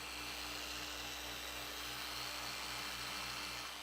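Steady whirring drone of a machine polisher working scratched paint on an Audi A4, constant and fairly faint with a low pulsing hum.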